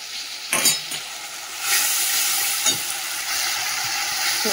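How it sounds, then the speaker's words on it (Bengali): Tomato with green chillies, salt and turmeric is stirred in a little oil, giving a soft sizzle with a few sharp clinks and scrapes of a spoon against the pan. "যে টমেটোটা একটুখানি তেলের মধ্যে নাড়িয়ে নিয়ে তারপর সর্ষে বাটাটা দেবো"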